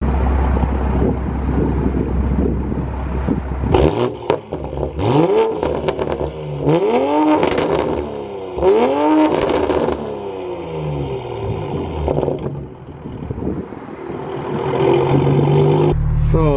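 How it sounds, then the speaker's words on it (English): A tuned Toyota Supra engine with an EcuTek tune revs hard in several sharp bursts, each pitch sweep rising then falling, loud and close, with steady idle and wind noise between. "I'm gonna go ahead and give you some revs real quick and see how that sounds"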